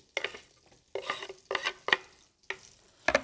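Onions stirred in a pot for Anatolian-style chicken stew with pearl onions, giving several bursts of scraping and sizzling at an uneven rhythm, close and fairly loud, with no talking.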